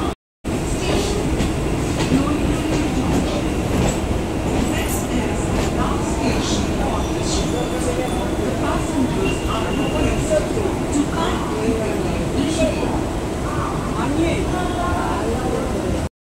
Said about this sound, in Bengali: আমাদের ট্রেন এখন নৈহাটি স্টেশনে ঢুকছে